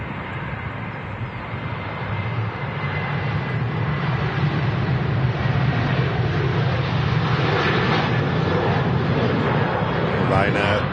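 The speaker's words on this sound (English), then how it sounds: "Yeah, them engines are a big telltale sign of the Maxes." A Ryanair Boeing 737 MAX at Manchester Airport roars with a steady, loud jet-engine rumble that slowly builds as it passes, heard from a distance with people talking over it.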